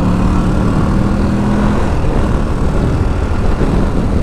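A Moto Guzzi V85TT Travel motorcycle pulls onto a dual carriageway under more throttle, its engine drone buried in a loud, steady rush of wind and road noise that stays constant throughout.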